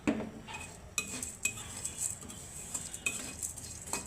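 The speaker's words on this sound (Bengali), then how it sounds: "এটা এইভাবে ভেজে নিচ্ছি একটু হালকা করে।" Tiny dried shrimp frying lightly in a pan, a soft steady sizzle broken by occasional sharp clinks and scrapes of a stirring spoon, fairly quiet and close.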